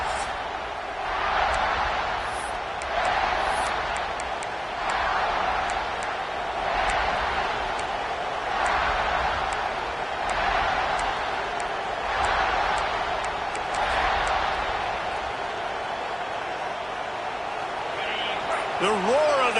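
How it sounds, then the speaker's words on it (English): Steady roaring crowd at a football game, loud and sustained throughout with rhythmic surges of cheering, like a stadium pushing the defense to keep the opponent pinned deep. "The roar of the crowd trying to fuel this defense to keep them pinned in their own end."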